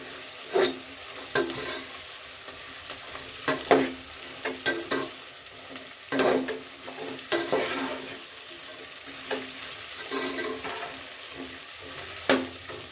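Ingredients for bisibele bath fry in a pan with a soft continuous sizzle, punctuated by irregular sharp scrapes and clacks of a spoon stirring against the pan, no voices.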